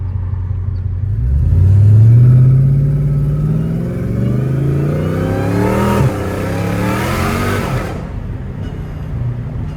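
A supercharged Dodge Hellcat Redeye with a catless exhaust revs hard and close up, its pitch climbing in a long screaming pull, dropping back, then rising again before it eases off.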